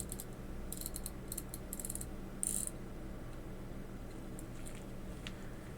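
Tiny ratchet clicks sound as a screw is turned on a watch movement during assembly, arriving in quick, faint clusters over a steady background hiss. A brighter click stands out near the middle.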